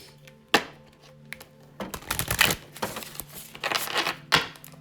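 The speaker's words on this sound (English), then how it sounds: "One more shuffle here to get us started." A deck of tarot cards being shuffled in quick riffling bursts, with sharp taps and rustles close by, and no voices.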